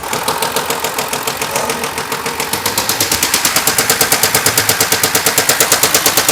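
Worn crankshaft on an Audi A6 3.0 TDI V6 diesel, starved of oil, produces loud, rapid metallic knocking, a steady rattling hammer that grows more pronounced and evenly rhythmic as it runs.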